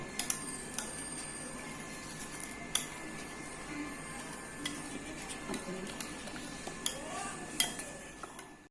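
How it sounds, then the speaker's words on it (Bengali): A spoon scrapes and clinks against a bowl while tandoori chicken marinade with fresh lemon juice is mixed thoroughly. The soft, steady mixing is broken by a few sharp, light clinks, with no talking. "সমস্ত উপকরণগুলি আমি ভালো করে মিশিয়ে নিচ্ছি।"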